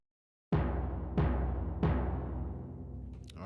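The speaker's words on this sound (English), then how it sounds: "The timpani preset is off the Triton." Orc Timpani preset on a Korg Triton: three booming timpani strikes at an even pace, each ringing out with a long decaying rumble, close and clear with no talk.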